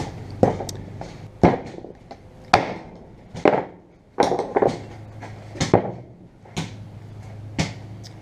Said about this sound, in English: You start hammering it from that face outwards.